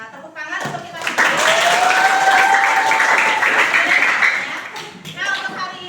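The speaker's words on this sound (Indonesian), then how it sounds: "Tepuk tangan untuk kita semua." Applause from a class of students in an Indonesian school lesson fills most of the clip, with loud sustained clapping and cheering voices. It tapers off near the end, and a few claps return briefly afterward.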